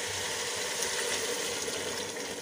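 Water is poured into a pot of sautéed mixed vegetables cooked in ghee, making a steady, faint, hissing wash that runs for the whole moment.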